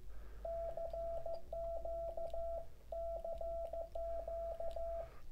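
Morse code sent with a homemade paddle key: a steady single-pitched beep tone keys out quick groups of dots and dashes in four bursts separated by brief pauses, over a low background hum.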